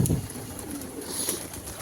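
Pigeons in a loft give soft, low cooing calls, faint and intermittent against a quiet room background with a little handling noise.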